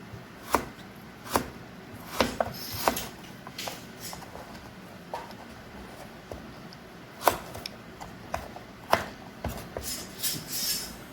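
Kitchen knife chopping ingredients for pulao on a cutting board, with a dozen or so sharp, uneven knocks spread over about eleven seconds against faint room background.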